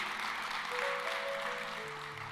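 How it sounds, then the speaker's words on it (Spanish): Quiet, steady applause from a church congregation welcoming a speaker, soft and continuous over faint held tones in the background. "un aplauso por favor, gracias"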